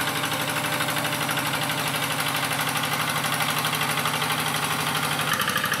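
A tractor engine running steadily while ploughing a straw-covered rice paddy, a constant loud, close chugging drone with an even rhythmic pulse and no pauses.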